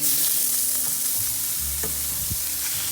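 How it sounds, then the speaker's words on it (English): Burger patties frying in olive oil in a pan, a steady close sizzle with a few soft clunks of the pan or spatula near the end, no voices. "I'm checking on my patties. They've been cooking on one side for a few minutes, and now I'm going to flip it over to the other side."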